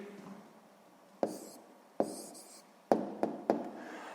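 Pen on paper jotting down a maths answer, a faint scratchy writing noise broken by five sharp taps or strokes spaced unevenly, close and quiet.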